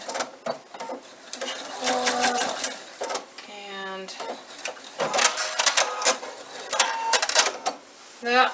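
A sewing machine back stitches a fabric bag in short mechanical bursts of rapid whirring, stopping and starting, with someone talking between and over the runs.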